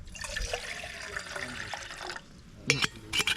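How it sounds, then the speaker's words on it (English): Water pours steadily into a metal billy can at a riverside campsite for about two seconds, followed by a few hollow clanks of the pot being handled. "Pour some water in here."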